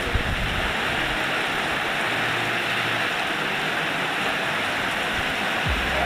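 A steady, even hiss of rain falling outdoors, constant and fairly loud from start to finish with no voices.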